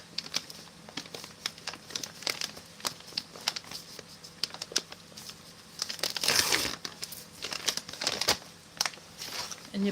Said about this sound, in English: This tab here, you just pop that up.